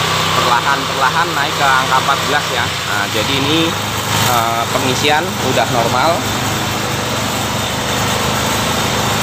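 A Yamaha Xeon scooter engine runs close by with a high, steady buzz, revved lightly in short bursts, while someone talks over it throughout.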